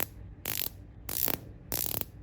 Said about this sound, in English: The detent clicks are very distinct.